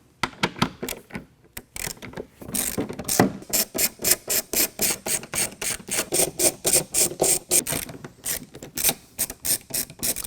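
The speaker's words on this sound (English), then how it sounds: "So now we can remove these bolts that are holding the spare tire carrier to the tailgate." A ratchet works bolts loose from the spare tire carrier on a 2022 Ford Bronco tailgate, rapid clicking bursts in repeated strokes, close and crisp, with brief pauses between runs and no talking.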